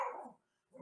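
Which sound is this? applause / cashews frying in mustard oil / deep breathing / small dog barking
small dog barking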